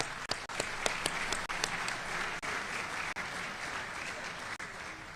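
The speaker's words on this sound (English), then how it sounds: "Let's give them all a round of applause." Audience applause for sponsors at a congressional district candidates' debate, a sustained crowd of clapping with a few crisp nearby claps standing out early, steady throughout and moderately loud.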